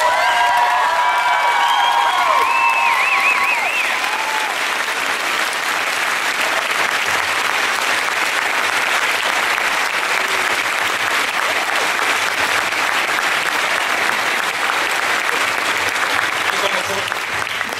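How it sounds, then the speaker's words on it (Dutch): A large theatre audience breaks into sustained, thunderous applause with some cheering and whistles at the final curtain of Droomvlucht de Musical at Efteling, steady and loud throughout. "Een donderend applaus alsjeblieft."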